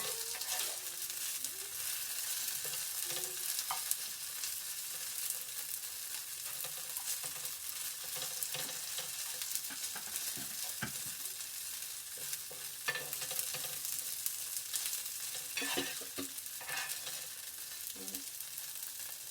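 Paneer pieces fry in two spoons of oil in a pan, a steady close sizzle with scattered pops and the occasional scrape of stirring, no voices over it.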